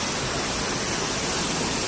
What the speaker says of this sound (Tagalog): Ito po ay pinakamalaki waterfall.